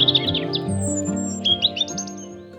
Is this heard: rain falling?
no